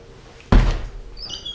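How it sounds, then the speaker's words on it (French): A door swings shut with one sharp, close thud, followed by a brief rattle and a faint ringing tail. "Comme ça se ferme la porte."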